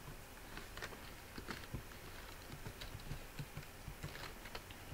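Typing on a computer keyboard, faint irregular key taps in short clusters over a quiet background hiss.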